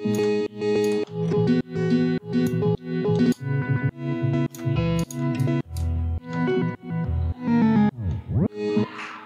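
Construction kit loops in music production with volume automation, chopped rhythmic electronic bursts with distorted bass, each phrase swelling and cutting off, ending in a sweeping effect, no talking.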